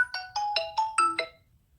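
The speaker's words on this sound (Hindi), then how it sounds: "फ़ोन आ गया था।" A phone ringtone plays a quick melodic sequence of six bright electronic beeps, rising and falling in pitch, clear and close, ending abruptly with no talking.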